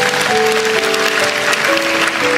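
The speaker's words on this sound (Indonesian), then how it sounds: "Kasih tepuk tangan untuk Tuhan." A church congregation applauds loudly and steadily during a sermon, dense continuous clapping with a sustained musical tone beneath it.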